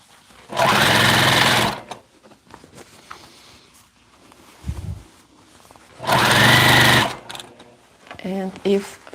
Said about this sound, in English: And if fabric is thick, then sewing machine do it.